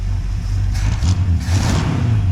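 An old 1964 Ford Fairlane, a Thunderbolt clone started after sitting abandoned for 29 years, revs up close, its engine rumbling low and steady with a couple of brief throttle blips on top.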